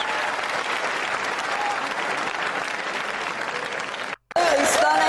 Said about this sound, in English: A standing ovation from the crowd.